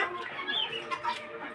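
Chickens on a small farm in cold weather cluck softly nearby, a few quiet, irregular calls overlapping briefly against low background noise.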